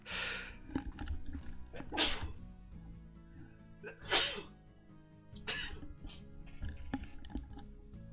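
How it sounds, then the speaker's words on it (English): Several sharp sneezes from a person during a Slime Rancher game stream, coming in separate bursts with short pauses between them, close to the microphone and fairly quiet. "I have to sneeze."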